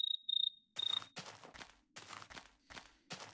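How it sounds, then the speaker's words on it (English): Crickets chirp in the game Minecraft, a steady run of bright, close chirping bursts repeating in quick rhythm with no talk over them. "Yeah, little crickets."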